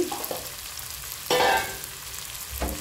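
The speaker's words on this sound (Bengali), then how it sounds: "এগুলো আমি একটু ভেজে নেব" Potato, long beans and carrot fry in a pan with a close, steady sizzle, broken by a couple of louder bursts as the vegetables are stirred.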